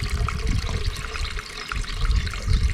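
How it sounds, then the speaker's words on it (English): Fresh spring water runs down over old stonework, a loud, continuous close-up gush and splash with no one talking. "It's basically fresh spring water."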